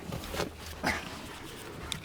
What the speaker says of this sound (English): We have a dog next door, a bitch that's on heat, and she's just round here constantly